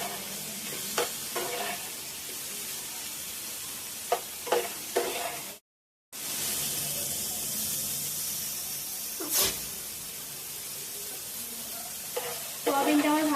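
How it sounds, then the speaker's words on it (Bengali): Soybean chunks frying in oil in a kadai, a steady broadband sizzle with intermittent scrapes and clinks of a stirring spoon against the pan, continuous and close throughout apart from a brief cut. "লাল লাল করে ভাজলে আর খেতে ভালো লাগে।"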